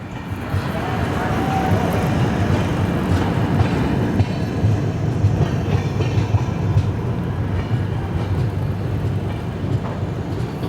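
Saurashtra Janta Express running between Veraval and Bandra Terminus, a loud steady rumble of wheels and carriage noise heard from on board, continuous throughout.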